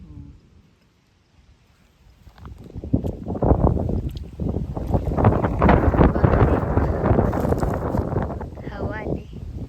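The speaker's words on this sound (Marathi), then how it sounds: "हवा आली." Wind blows outdoors on a crab-catching outing, starting after a quiet moment and building into a loud, continuous gusty rush against the microphone that lasts to the end, with a voice briefly audible near the close.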